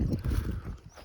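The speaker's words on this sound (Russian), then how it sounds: "сейчас будем загонять лошадей на дойку" Horse hooves clip-clop close by as mares are driven in for milking on a steppe farm, with low rumbling and shuffling movement filling a brief, busy moment.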